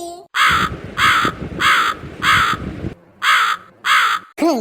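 A cartoon crow caws loudly and repeatedly, six harsh caws in a regular pulse, with a voice talking underneath.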